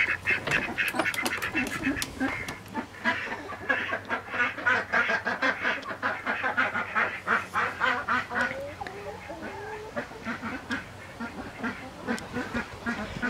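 A flock of khaki Campbell ducks on a small farm, quacking repeatedly and loudly at close range in a busy, overlapping chorus that continues throughout.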